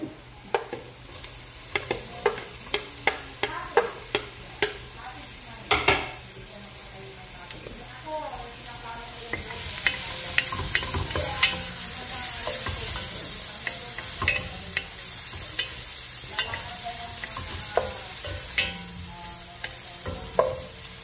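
Garlic fries in a pan with a soft steady sizzle, punctuated by frequent sharp clacks and scrapes of a utensil stirring against the metal, up close, with a voice briefly speaking in the background.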